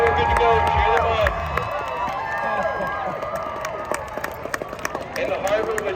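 A crowd cheers and calls out along a harbor during a survival suit race at a crab festival in Kodiak, Alaska, with shouting voices and bursts of noise rising and falling throughout, people talking over it.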